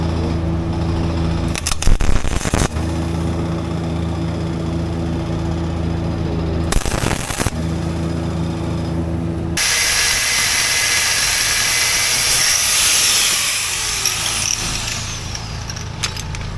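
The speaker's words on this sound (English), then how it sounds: "we just had to take the end of that stud off there because it was a little bit long" A power tool cuts the overlong end off a wheel stud on a forklift. Loud bursts of rapid rattling hammering come near, with short pauses between them, then give way to a harsher, brighter grinding whine that lasts to the end.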